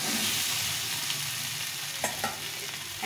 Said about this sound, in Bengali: আলুটাকে এইভাবে কষিয়ে নেবো ভালো করে।